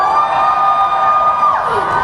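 Fans shout and cheer at a film promotion appearance by a Hong Kong singer-actress, a steady close crowd din of excited voices and whoops running throughout.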